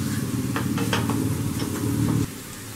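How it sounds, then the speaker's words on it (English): Cooked tomatoes are mashed with a spoon in a pot for a Kerala egg curry, a series of soft wet squelches and spoon knocks over a low sizzle, stopping near the end. "Just lightly mash it with a spoon."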